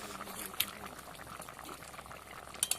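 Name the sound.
magur fish and ridge gourd curry boiling in a pot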